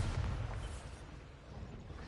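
Bombarda blasting spell going off in Hogwarts Legacy on PS5: a loud, deep explosive boom at the start with heavy low rumble that decays over two seconds, no talk.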